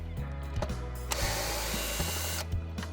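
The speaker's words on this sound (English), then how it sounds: "The first point is to unscrew 2 screws where the Anderson connection is pointing." A powered screwdriver whirs and ratchets in short bursts as screws come out of the motor controller on an MGI Navigator Quad Gyro mobility scooter, close up, with a longer continuous run in the middle and no voices.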